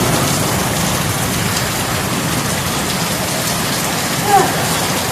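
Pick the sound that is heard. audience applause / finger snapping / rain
rain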